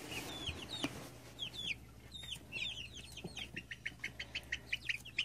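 A three-week-old Buff Orpington chick clucks and chirps repeatedly, short rising calls coming faster toward the end, fairly close against a low steady hum.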